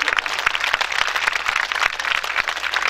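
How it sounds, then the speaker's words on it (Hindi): A crowd claps loudly and continuously at the last day of a live Bhagwat katha in Jodhpur, a dense burst of hand-clapping filling the space with no talk over it. "एक बार जोरदार ताली भाई इन पप्पू राम गुजरे वास्ते"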